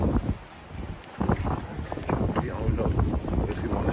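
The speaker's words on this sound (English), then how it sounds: "It's windy out here." Wind rumbles and buffets the microphone outdoors near a parking area, loud and gusty throughout, with faint voices mixed in.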